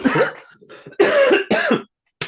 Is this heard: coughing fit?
yes